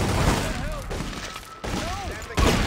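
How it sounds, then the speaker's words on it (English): Police gunfire from street level in The Godfather 2 video game, a scattered volley of shots with a loud burst near the end, heard under speech. "The cops shooting me from street level?"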